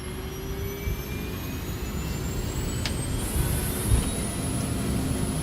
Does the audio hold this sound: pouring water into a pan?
no